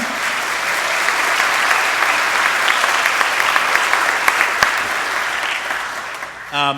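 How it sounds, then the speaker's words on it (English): Sustained applause from a concert audience, a dense steady wash of many hands clapping throughout before a brief voice cuts in at the very end. "How about a big round of applause for them?"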